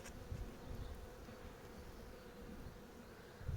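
Honeybees hum at an opened beehive, a steady low, faint buzzing drone with no talk.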